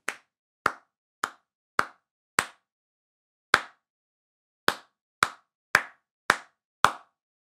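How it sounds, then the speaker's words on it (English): Hands clap a simple rhythm exercise from a basic music theory lesson: five evenly spaced sharp claps, a pause, a single clap, another pause, then five more quick claps, crisp and close with no talking. "Let's try clapping it together."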